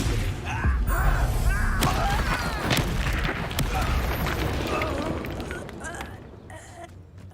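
Confringo fire spell exploding in Hogwarts Legacy combat, a dense barrage of bursts and crackling impacts with scattered sharp pops, steady and loud before fading toward the end, with a voice talking over it.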